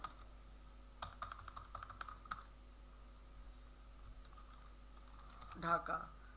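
Typing on a computer keyboard produces a quick run of light, close key clicks, then a pause and a few later taps, with a voice speaking briefly near the end.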